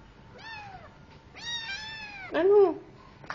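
Kitten meowing three times in close succession, the last call louder and more drawn out, near and clear with no talk.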